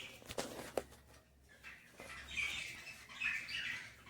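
Pet birds call from wooden nesting boxes, giving faint chirps and squawks among soft rustling and thumps at close range, with no talking.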